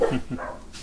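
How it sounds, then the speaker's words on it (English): A dog gives a few quick, fairly quiet barks and yips, close by, with short gaps between them. "Pardon my dogs."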